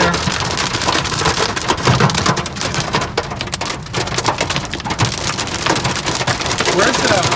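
Heavy hail and rain pound down in a fierce storm while floodwater rushes, a loud, dense, continuous roar with brief voices underneath.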